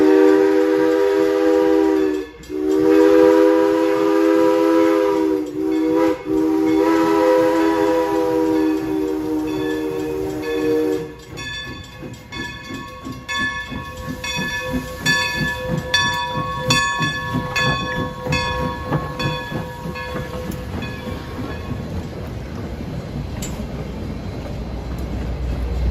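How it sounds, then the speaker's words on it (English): Steam locomotive 2-8-0 number 40 blows its 3-chime C&J whistle at full blast. A rich, loud, sustained chord holds for several seconds, then gives way to the chuffing rumble of the train with shorter whistle bursts, and no voices. "That C&J whistle sounds great blowing at full blast."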